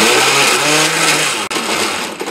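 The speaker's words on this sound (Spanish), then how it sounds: "un poco de puré de tomate para ayudarle a la licuadora a moler bien todos los ingredientes" A blender grinding tomatoes, garlic, cloves, pepper, oregano, salt and tomato purée, a loud continuous whirring roar that holds steady, with a brief dip partway through, close and without talk.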